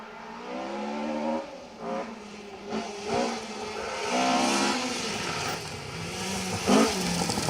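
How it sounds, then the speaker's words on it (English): Rally cars on a Cambrian Rally special stage approach from a distance, their engines swelling and revving through gear changes, loud and continuous with no talk. "So we can hear more cars approaching us now."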